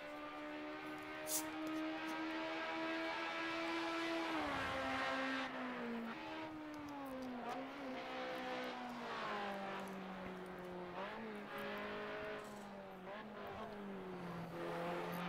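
A race car engine in Project Cars 2 revs loud and sustained, its pitch rising and dropping repeatedly through gear changes as the car is driven hard, with no talking over it.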